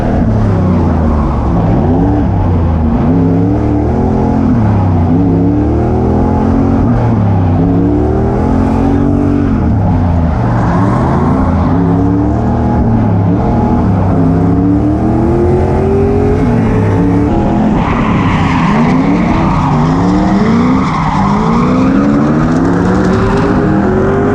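A race car with a 4.8 engine drives hard on track. Its engine roars loud and close, rising and falling through repeated revs and gear changes for the whole stretch, with no talk.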